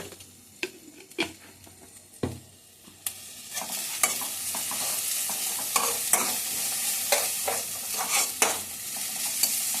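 Grated carrot for halwa fries in a pan with a continuous soft sizzle, while a spoon scrapes and stirs in irregular strokes and clinks now and then against the pan.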